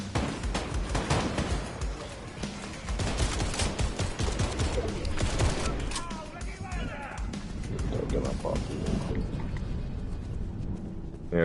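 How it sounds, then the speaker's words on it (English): Rapid bursts of automatic gunfire from sentry guns in Fortnite ring out in dense, overlapping volleys, loud at first and thinning later, mixed with other game sounds while players talk over them. "there's like sentry guns or something over there"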